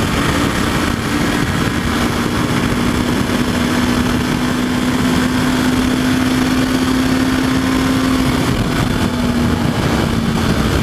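A 2016 Honda CB500F motorcycle engine hums at a steady pitch in sixth gear on a windy ride, giving a loud, unbroken drone mixed with rushing wind noise.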